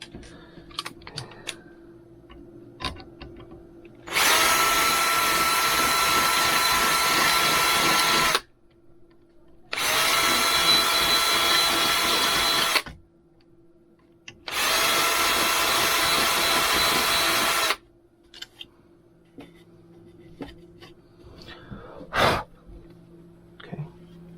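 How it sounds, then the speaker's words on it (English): A power drill with a bit fitted runs in three loud, steady bursts of several seconds each, separated by short pauses, with quiet handling noises in between. "I don't want to take the drill bit off yet."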